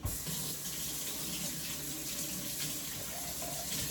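Food is rinsed under a kitchen sink faucet, with water running in a steady, close, continuous splashing stream throughout.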